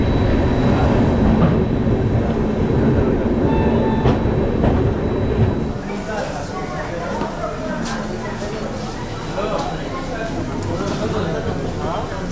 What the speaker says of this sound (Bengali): তো আপাতত আমাদের ট্রেন জার্নি এখানেই শেষ হতে চলেছে।